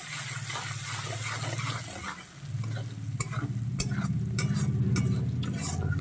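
Onions fry with a steady sizzle in a wok for a Bengali doi katla dish, while a spatula stirs and scrapes through them in repeated strokes, with short metallic clinks near the end; no one speaks.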